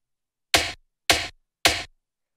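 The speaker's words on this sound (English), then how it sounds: "It's just a snare chopped from a break that had a really good snare." Three separate hits of a snare drum sliced from a jungle breakbeat sample, each a sharp, bright crack with a short noisy tail, evenly spaced and alone in silence.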